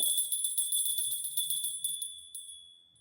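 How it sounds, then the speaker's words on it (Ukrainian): A small bell rings with bright, high metallic tones, shimmering and slowly fading over a few seconds. "дзвоник дзвенить."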